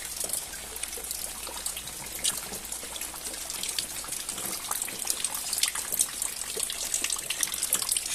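Rainwater from a roof leak dribbles and splashes steadily indoors during a rainstorm, a continuous soft wash of trickling water with no voices.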